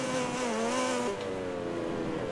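A Ducati MotoGP bike from the video game MotoGP 20, racing at the Austria round, howls at high revs with a strong steady engine tone that dips briefly as it shifts, loud and close throughout with no speech.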